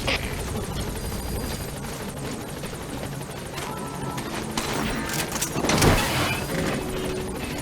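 Helicopter rotor chop of the Pequod gunship arriving in Metal Gear Solid 5: The Phantom Pain, a steady loud thrum with gunfire and crashing bursts swelling toward the end.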